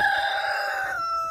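A single drawn-out hen call, a sustained nasal squawk lasting about a second, close and fairly loud with no talking.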